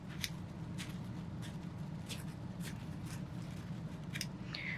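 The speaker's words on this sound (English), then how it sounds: "here's my scissors. Just kind of cut it right to the end of the plate." Scissors snipping repeatedly, about nine crisp cuts at a steady pace, close by over a constant low background rumble.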